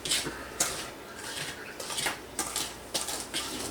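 Dry ingredients, including sugar, stirred in a bowl for pan soboa: a quick, steady run of close scraping and light clinking of a utensil against the bowl, with no talk.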